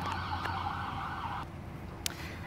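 Emergency vehicle sirens wail steadily outside near a hospital, a sustained loud tone over low traffic rumble that cuts off partway, with a sharp click near the end.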